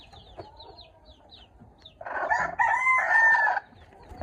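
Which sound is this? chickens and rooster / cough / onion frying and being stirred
chickens and rooster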